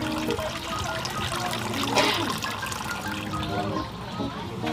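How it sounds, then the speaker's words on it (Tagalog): A river in a video game flows in a steady, close rushing wash, with people talking over it. "May ilog dito."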